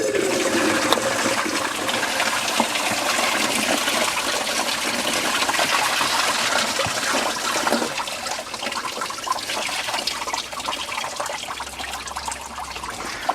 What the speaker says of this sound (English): I can pour out into the bucket down there.